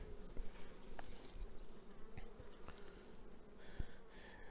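A dense, steady hum of honeybees buzzing close by inside an open hive during a spring inspection, continuous throughout with a few sharper clicks and knocks.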